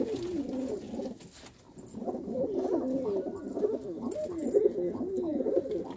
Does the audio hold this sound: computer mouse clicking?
no